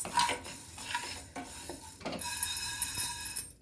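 A spoon scrapes and stirs dry black lentils (urad dal) around a heavy-bottomed pan in repeated strokes as they roast, with a faint sizzle underneath, close and fairly quiet.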